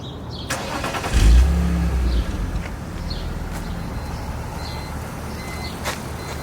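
A gutted BMW 325i E46 drift car cranks and fires up with a deep burst, then settles into a loud, rough idle with a few short revs, heard close up outdoors.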